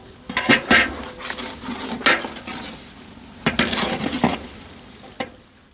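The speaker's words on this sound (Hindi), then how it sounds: "मसाले को तकरीबन 5 से 7 मिनट के लिए अच्छी तरह फ्राई करेंगे ताकि तमाम मसाला हमारा अच्छी तरह फ्राई हो जाए।" Masala for chicken fries in a pan while a utensil stirs it, giving several loud scraping bursts over a steady sizzle, close and without talk.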